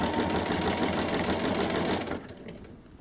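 A sewing machine quilts hexagon-patterned fabric, running in a loud steady whir that cuts off abruptly near the end, leaving faint room sound.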